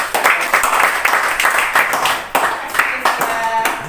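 Church congregation clapping during a sermon, a dense burst of many hands that swells and recedes in waves, loud and close, with brief voices mixed in among the applause.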